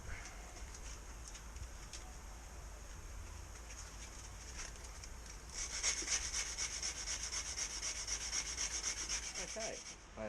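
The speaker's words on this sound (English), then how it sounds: "I have gone over this blade with several different grades of sandpaper." Sandpaper rubs back and forth across a handmade knife blade in a quiet, steady scratching that grows noticeably louder and brisker partway through.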